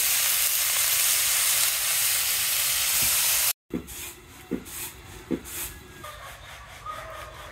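Vegetable bhaji with turmeric, water, salt and chopped green chillies cooks in a pan with a steady close sizzling hiss, broken by a brief cut halfway, then lighter bubbling with a few soft knocks.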